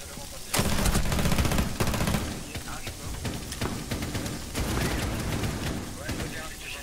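Rapid automatic gunfire in the game Rainbow Six Siege rattles in loud, dense bursts, then continues as scattered shots under players talking.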